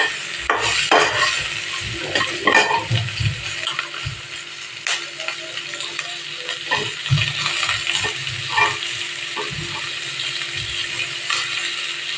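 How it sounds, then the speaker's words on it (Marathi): Lengthwise-sliced onion goes into a pan for a raw tomato vegetable dish and is stirred as it fries, a soft continuous sizzle under repeated scraping and clinks of a spoon against the pan. "आणि भरपूर सारा कांदा टाकते कांदा पण उभा चिरून घेतलाय"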